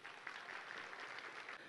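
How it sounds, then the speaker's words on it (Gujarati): Loud, steady applause from an audience at a pre-school's annual function, a dense wash of clapping that fills the whole moment with no voices over it. "આ એન્જલ પ્રી સ્કૂલ માટે તાળીઓ થઈ જાય"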